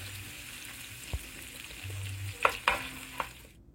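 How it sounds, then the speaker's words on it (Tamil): Onion sizzles steadily in oil in a pan with a few scraping stirs and clinks of a utensil, no voices. "அதையும் சேர்த்து நல்லா ப்ரௌன் ஆகிற வரைக்கும் வதக்கி எடுத்துக்கலாம்."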